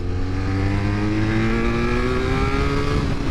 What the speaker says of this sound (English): And that exhaust note is absolutely glorious.